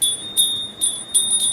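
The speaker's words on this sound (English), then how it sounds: "Where's my bell?" A hand bell rings in four short bursts, each a bright, sustained metallic tone that fades between strikes, fairly close and with no talking over it.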